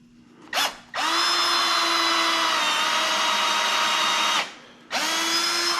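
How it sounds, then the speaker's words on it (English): Center hole drilled with a starter bit: a brief burst of a power drill, then a steady, loud, close whine for several seconds, a stop, and a second spin-up at the end. "In the center hole, I am going to use a starter bit first."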